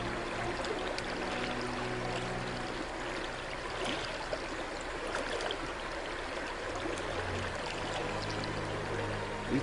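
River water flows and trickles steadily over rocks in Sedona, a soft, continuous rushing close by that holds an even level throughout, with no voices.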